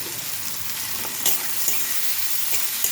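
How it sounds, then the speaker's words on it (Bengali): Chopped onions, garlic and slit green chillies frying in a pan, a dense, steady close-up sizzle throughout, broken by a few soft stirring scrapes. "দিয়ে আমি হালকা করে আবার মিনিট 2 মতো এটা ভেজে নেব।"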